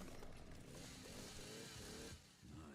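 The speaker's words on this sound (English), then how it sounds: "You can also shoot the chainsaw here to make it stop spinning earlier so we can grab it." A chainsaw spinning inside the Resident Evil 9 video game, a steady loud buzzing whir that runs continuously with a slight dip near the end, game sounds layered underneath.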